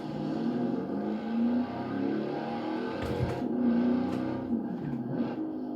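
A Lamborghini Urus engine in the video game Forza Horizon 4 hums and revs in smooth rising and falling surges, close and continuous, with a few brief clicks over the top.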